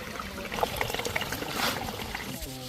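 A hillside stream on Velliyangiri hill rushes and trickles over rocks like a small river, a continuous close watery burble with a voice speaking over it.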